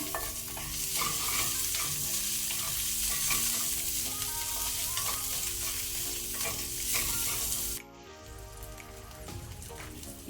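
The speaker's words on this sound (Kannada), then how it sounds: "ಸ್ವಲ್ಪ ಫ್ರೈ ಮಾಡುವ, ಸ್ವಲ್ಪ ಕಲರ್ ಚೇಂಜ್ ಆಗಲಿ." Spring onion whites frying in oil in a pan over a low flame for paneer fried rice, a loud bubbling sizzle that drops abruptly to a quieter crackle near the end, no talk.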